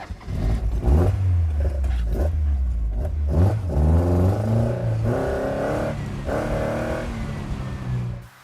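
A Stylus roadster kit car with Ford's 1.8-litre Z-Tech engine drives past close up, engine rising through the gears in repeated climbing pulls with brief dips between shifts, loud and steady, no voices.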